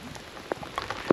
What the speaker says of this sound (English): It's raining like crazy, but it's okay.